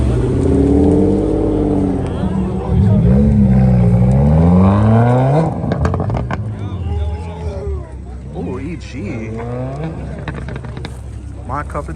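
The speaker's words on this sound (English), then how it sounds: "WRX pulling up." A Subaru WRX rolls up at a car meet, engine revving and rumbling close by, then easing off while people chatter nearby.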